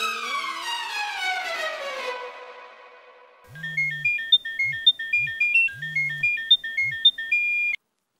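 A telephone rings on an outgoing call, a repeating two-tone electronic ring pattern heard clearly after a fading musical sting, fairly close and with no talking.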